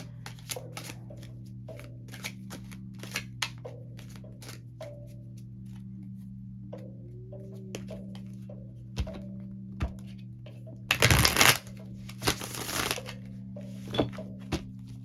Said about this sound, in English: that wasn't a flyer, that was just me shuffling